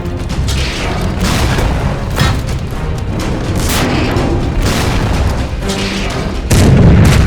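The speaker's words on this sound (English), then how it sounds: "Load the shell quickly. We need to help the company. Come on, mortar!" Cartoon tank mortar firing shells amid battle: continuous heavy booming and rumbling, loud and close, with repeated thuds of launches and impacts and a stronger low blast near the end.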